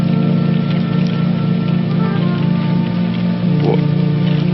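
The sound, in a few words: rain falling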